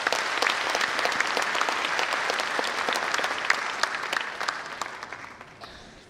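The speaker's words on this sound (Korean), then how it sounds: "우리 이분들께 큰 박수 한번 부탁드리겠습니다." An audience applauds at a university's 70th anniversary ceremony, dense steady clapping from a large crowd that holds for several seconds and then fades out.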